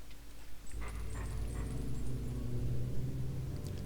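Wolf growls and whimpers come from the video game The Legend of Zelda: Twilight Princess HD, low and rumbling over a dark droning game soundscape, with short whining cries scattered through.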